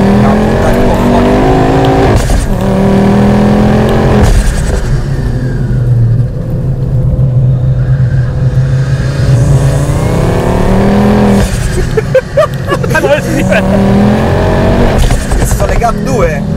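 A tuned Ford Focus RS with a hybrid K16 turbo and about 500 hp roars loudly from inside the cabin as it accelerates hard in third gear, the engine note climbing through long pulls and easing briefly between them while occupants talk excitedly.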